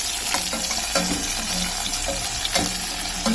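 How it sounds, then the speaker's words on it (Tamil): Onion, garlic, tomato and green chili sauté lightly in a pan for kurma, giving a close, steady sizzle with occasional stirring scrapes and no one speaking. "வெங்காயம், பூண்டு, தக்காளி, அந்த இது பச்சை மிளகாய் இதை லேசாக வதக்குறாங்க."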